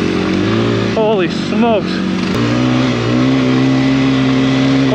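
A motor vehicle's engine drones and revs while riding up a snowy riverbed in the woods, loud and close with rising pitch sweeps, as a voice exclaims over it.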